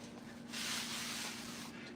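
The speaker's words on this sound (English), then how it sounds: "Now this is a disinfectant that I can actually spray on their food and it's perfectly safe for them." Disinfectant sprayed from a bottle at an exotic animal rescue, a single hissing burst lasting about a second, close and fairly soft over a low steady hum.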